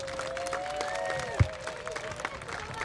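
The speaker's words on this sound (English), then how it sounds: "Round of applause for Mark," Faint, scattered clapping from the audience at an outdoor Bigfoot festival calling contest, with one sharp clap standing out above a low murmur.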